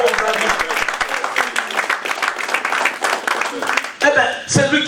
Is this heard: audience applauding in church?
yes